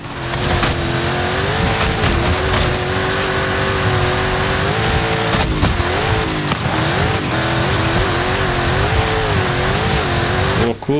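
A car in the racing game Forza Horizon 5 drives steadily with a loud, continuous engine roar that rises and falls as it revs, with occasional tire noise and no talking over it.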